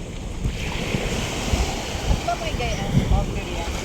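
Sea surf along a beach at Puerto Galera, a steady wash of breaking waves with wind noise over the microphone and faint voices in the background.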